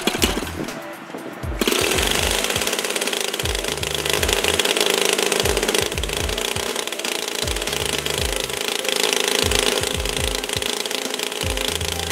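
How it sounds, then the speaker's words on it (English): A DLE gasoline model aircraft engine gives a few rough turns as the propeller is flipped, then catches and runs with a loud, steady, rapid hammering drone that continues to the end. "Continue flipping the prop and be ready for the engine to start."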